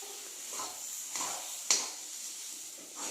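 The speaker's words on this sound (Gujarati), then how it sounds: "આ રીતે હલાવી દેવાનું" Sugar stirred into a kachori filling in a pan, a soft steady hissing scrape with a few light knocks of the spoon against the pan, close and quiet, with no talking.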